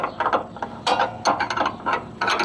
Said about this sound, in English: So I'm going to remove this bolt.